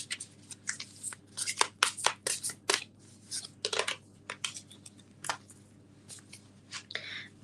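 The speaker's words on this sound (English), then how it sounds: "It's hard to shuffle these cards because they're so big." Oversized tarot cards are shuffled by hand in quick uneven bursts of riffling and sliding, a close dry papery flutter with short gaps between strokes and no talk.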